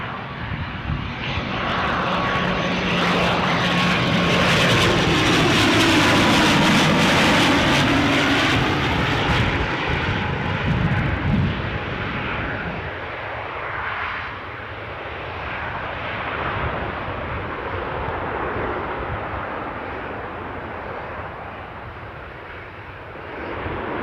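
ATR turboprop airliner at Newcastle airport: loud propeller drone and engine roar passing close, with a sweeping pitch shift as it goes by, then fading to a steadier, quieter rumble.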